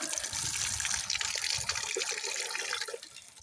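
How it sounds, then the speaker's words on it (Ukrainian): Tap water gushes steadily into a pot, a continuous splashing rush that eases slightly at the end. "Зараз беремо і набираємо водичку."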